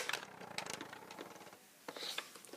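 Plastic clicks and rattles from a Nerf blaster's internal mechanism with a loose spring, a quick series of close, dry mechanical ticks and snaps with no talking.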